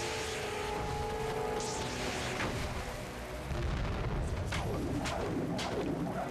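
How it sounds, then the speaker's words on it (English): Bombs burst in The Legend of Spyro: A New Beginning, several booms spread through a few seconds of dense game action with no talking. "Hold up, they're throwing bombs back."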